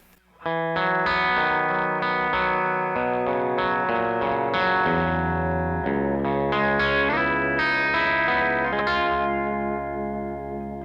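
Electric guitar played clean with the Jackson Audio compressor pedal bypassed, a bright, chimey run of sustained chords and single notes that rings on steadily and fairly loud with effects-laden shimmer and no voices.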